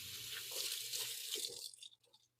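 Tap water runs over curly parsley in a kitchen sink, a soft, close splashing rush for under two seconds that then cuts off, leaving quiet drips.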